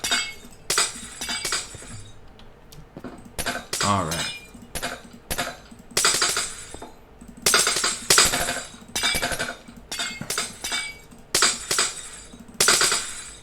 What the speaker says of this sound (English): this is a nice glass removal ASMR video for now.